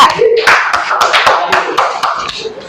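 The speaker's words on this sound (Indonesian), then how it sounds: "Tepuk tangan dari kelompok 3" A small classroom group of students claps for group 3, with sharp, uneven hand claps over a couple of seconds and voices under them.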